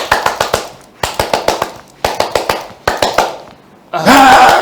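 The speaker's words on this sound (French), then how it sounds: "Des Sassou dans la salle de conférence en train d'applaudir." A small group of advisers claps in short, quick bursts in a press conference room, each burst a string of sharp close hand claps with gaps between them, ending in a louder blurred wash of sound.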